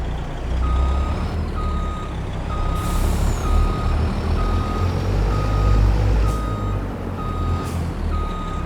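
A truck in Farming Simulator 22 reverses with a steady, evenly spaced backup beep repeating about every half second over a loud rumbling engine and low idle drone, with a brief hiss of air brakes.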